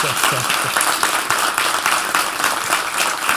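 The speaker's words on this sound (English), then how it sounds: "I think the clap should be louder." Audience applause at a management conclave, a broad steady wash of clapping from a large crowd that carries on evenly throughout without a break.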